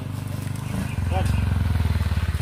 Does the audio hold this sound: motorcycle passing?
yes